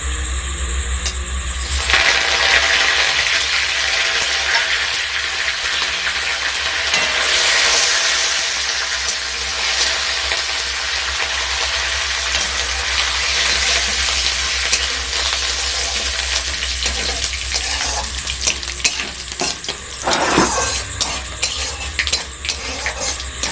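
Vegetables dropped into hot oil in a kadai wok: a short bump, then a strong, steady hiss of frying that carries on with occasional clinks of a utensil against the pan.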